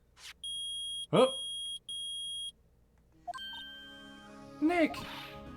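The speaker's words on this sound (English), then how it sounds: "Beeping! The metal detector's found something!" In the Phoenix Wright: Ace Attorney video game, a metal detector gives three clean electronic beeps in a row, then a voice sound and more short game chimes follow.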